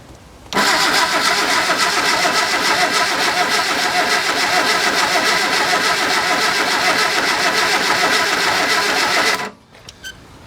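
A fully rebuilt engine cranks steadily for about nine seconds as the starter labours without catching, a dense, loud, continuous churn that cuts off abruptly, leaving near silence.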